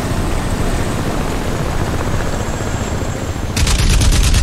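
An enemy aircraft attacks in the video game Crysis Remastered, a loud, steady rotor-like drone with a high whine, joined near the end by a burst of rapid automatic gunfire.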